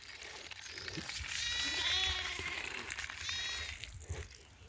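Goats bleat nearby on a village farm, a couple of wavering, drawn-out calls over steady outdoor background noise.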